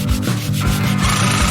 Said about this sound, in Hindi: हमें इन्हें फाइल करना होगा।